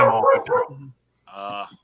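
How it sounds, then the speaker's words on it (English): A dog barks twice in quick succession indoors, fairly close and loud, with a short pause between the two barks. "See, now we even got the dog excited about OB. Yeah. He'll bark at anything."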